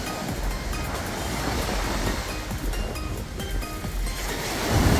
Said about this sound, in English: This is the beach at Stevens. It's still quite choppy, but you could go in for a swim here.